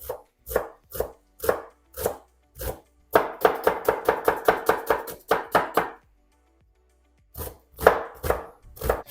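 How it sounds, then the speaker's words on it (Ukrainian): Rapid knife chopping of onion finely on a board, short bursts of quick regular chops separated by brief pauses, close and fairly loud, no talking. "Дрібненько нарізаю цибульку."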